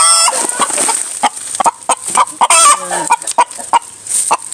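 A hen clucks repeatedly outdoors while laying an egg, a loud run of sharp, close clucks and squawks with brief pauses, one bird calling alone.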